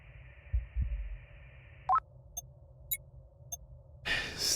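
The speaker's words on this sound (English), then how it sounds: "There's its heartbeat again." A planet's heartbeat in the cosmic horror game Voyager-19, heard as two low, muffled thumps close together over a quiet electronic hum, then sparse synthetic beeps and tones before a burst of noise.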